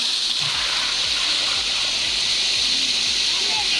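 Steady rushing water at the Sticky Waterfalls near Chiang Mai, a continuous close wash of cascading, splashing flow with no breaks.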